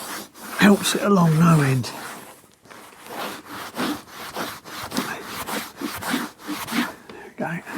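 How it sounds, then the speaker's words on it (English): Old nickel plating on a 1929 Riley 9 Monaco is scraped by hand in a quick series of short, rasping strokes close up, with a voice talking briefly at the start. "So just scraping that top layer off"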